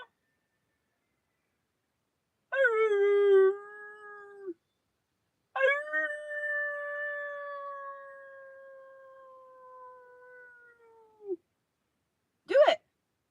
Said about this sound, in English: Are you literally howling right now?